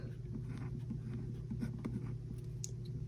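Pen writing by hand in a 2025 planner, with soft close scratchy strokes in short bursts over a low steady background hum, brief and quiet, with no talking.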